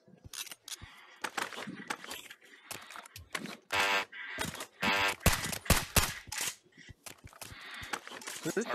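Automatic AK-12 rifle fire in the VR shooter Pavlov during a zombie multiplayer round, coming in short, sharp bursts separated by gaps, mixed with other clattering game noises and occasional voices.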